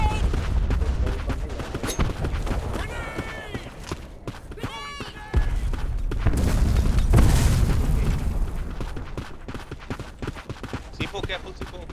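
Grenade blast and gunfire in an online shooter match, with a heavy booming detonation partway through amid scattered rapid gunshots and clattering effects, while players talk over the action.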